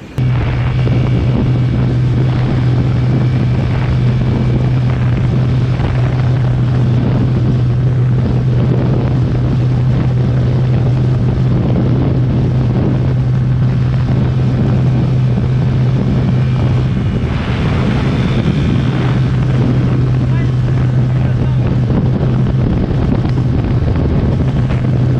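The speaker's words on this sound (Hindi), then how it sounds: "ये मैंने छठे गियर लगा दिया है और ये मैं निकल गया आगे" KTM RC 125 motorcycle at speed in sixth gear, a steady droning engine hum buried under heavy, constant wind roar on the microphone, loud and continuous throughout with no talking.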